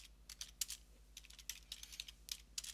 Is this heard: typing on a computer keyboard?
yes